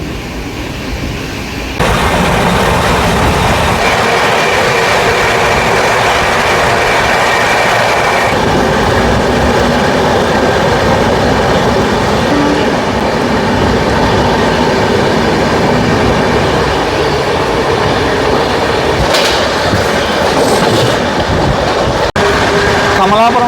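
The Tirumala Express runs between Kadapa and Guntakal, heard from on board as a loud, continuous rumble with rhythmic wheel clatter over rail joints, a sudden burst near the start and brief louder knocks toward the end.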